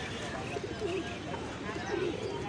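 Fancy pigeons coo softly at the Tongi pigeon market, their low calls rising under a steady wash of crowd chatter and market bustle.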